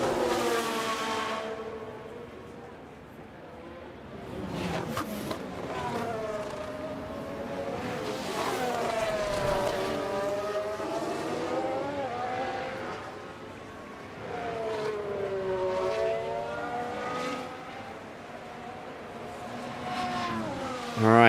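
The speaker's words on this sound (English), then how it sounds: "The only noise you are hearing predominantly is the tyres." Formula One race cars in the F1 Manager 24 game at the Mexico circuit, with tyre and engine noise running continuously for the whole stretch in long, sweeping pitch glides as the cars pass, loud and steady with a few louder swells.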